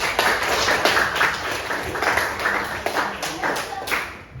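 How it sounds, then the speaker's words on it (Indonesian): A classroom of students claps for a classmate during a poetry lesson, scattered hand claps steady across the whole stretch with a few voices mixed in. "Kita beri tepuk tangan kepada Mas."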